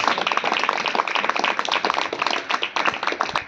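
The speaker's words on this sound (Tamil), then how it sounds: "நல்ல கைத்தட்டி விநாயகபுரத்துக்காக நன்றி சொல்லுங்க" An audience at a gospel meeting in Vinayakapuram claps in thanks, a lively run of close, sharp handclaps with an uneven rhythm and no break.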